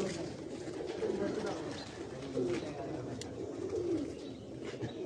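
Pigeons coo softly and repeatedly on a rooftop in Wazirabad, the low murmuring calls close and continuous, with faint voices in the background.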